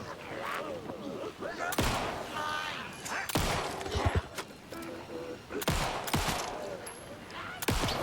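Gunshots ring out in Alan Wake II, a handful of sharp, loud reports spaced a second or two apart, with a voice talking between them over a low ambient bed.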